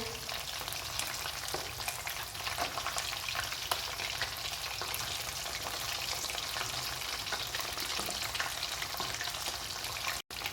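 Fish sizzles steadily in hot oil, a dense crackling hiss with occasional pops, close and continuous, cutting off briefly near the end.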